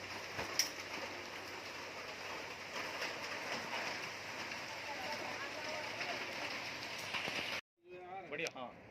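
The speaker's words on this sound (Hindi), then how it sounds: "थोड़ा मौसम ख़राब है, बारिश हो रही है" Steady rain falls by the Yamuna river near a gurudwara, a constant hiss with faint bird calls, before a brief cut and muffled handling noise at the end.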